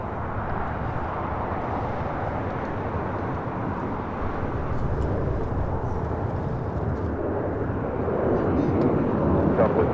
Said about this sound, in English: here we have Southwest Airlines 2188 taking off to San Antonio